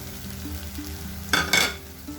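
Spice powders sauté in hot oil for a prawn and egg curry, a steady soft sizzle broken by two quick scraping strokes of a spoon against the pan.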